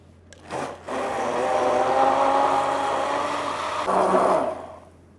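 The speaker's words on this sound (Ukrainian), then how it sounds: "Та блендую." A countertop blender whirs steadily as it purées cooked, squeezed basil leaves with added water, a continuous motor drone running for several seconds with a brief start and a renewed surge near the end.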